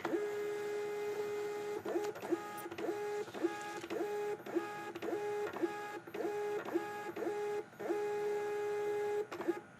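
A small Bluetooth thermal label printer whirs in a run of short, repeated mechanical bursts, steady and close, with brief pauses between feed cycles.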